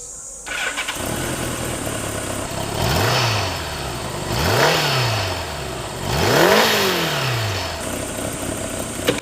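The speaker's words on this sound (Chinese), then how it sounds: "先大家听一下这一代它的发动机声浪" A Honda Gold Wing motorcycle engine idles steadily, then revs three times in a row, each blip rising and falling back to a low, even idle, close by with no talk.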